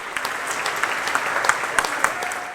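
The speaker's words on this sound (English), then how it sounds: "A big hand of applause for John Sovan, Executive Head of Greenpeace" An audience at a schools' climate action event claps steadily, a dense, bright patter of many hands held at an even level throughout.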